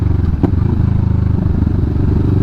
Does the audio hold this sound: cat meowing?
no